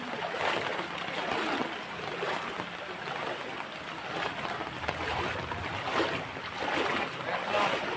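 Floodwater fills city streets after heavy rain, a continuous rushing wash with sloshing surges, steady and fairly loud throughout with no clear voices.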